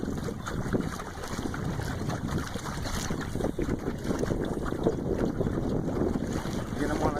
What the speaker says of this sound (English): I'm on a kayak with my trolley motor.